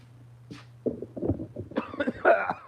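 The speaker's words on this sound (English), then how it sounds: "Oh man, I gotta cough it up the lung here." A man outdoors, sick and hoarse, coughing several times in rough, throaty bursts close to the microphone, ending in a strained, raspy clearing of the chest.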